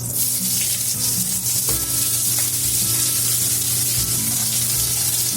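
Chopped onions hitting hot oil for a raw jackfruit masala curry, giving a loud, continuous close sizzle with occasional soft stirring knocks, no voices.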